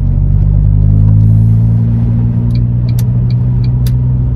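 A 2005 Ford Fiesta ST with a 2-litre naturally aspirated four-cylinder engine drones steadily while driving, giving a loud, low, even rumble heard from inside, with faint ticks and clicks over it.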